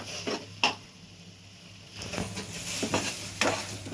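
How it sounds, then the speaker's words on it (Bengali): Rice and lentils stirred in oil for khichuri make a soft sizzle, broken by repeated scraping and tapping strokes of a spoon against the pan, close and moderately quiet. "পুরো চাল আর ডালটাকে তেলের সঙ্গে মিশিয়ে নিচ্ছি। এটা একটু ভাজা ভাজা হোক।"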